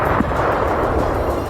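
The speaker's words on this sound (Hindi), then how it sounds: "हमले के बाद वहां जोरदार धमाके हुए, जिससे पूरा इलाका थर्रा गया" TOS-1A thermobaric rocket strikes in Bakhmut make a loud, unbroken, heavy roaring rumble that fills the whole short stretch with no pause.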